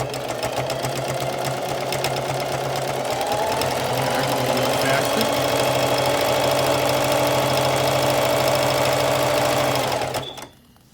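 A sewing machine back stitches a fabric side seam, its motor whirring steadily and close for about ten seconds before stopping abruptly; a voice may be faintly present underneath.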